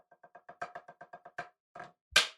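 Snare drum in a single measure: a string of quick, crisp strokes swelling into a short press buzz, two more hits, and then a sharp, loud rim shot to finish. The playing is fairly quiet and close, with no voice.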